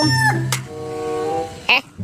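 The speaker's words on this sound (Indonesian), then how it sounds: "yang ini ada ayam boiler" A broiler chicken clucks and calls in a few short bursts, close by, with a sharp high squawk near the end and other animal sounds around it.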